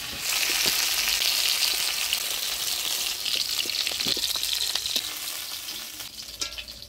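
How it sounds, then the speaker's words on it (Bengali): A catla fish head fries in hot oil, a steady, bright sizzle with scattered popping crackles and occasional spatula knocks, heard close with no voices. "এবার কাতলা মাছের মুড়াটাও ভেজে নিব।"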